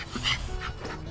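A muscular catch dog used for hog hunting pants close by in short, breathy bursts with a faint whimpering edge.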